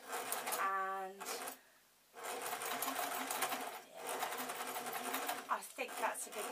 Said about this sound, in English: So we just keep on sewing, really.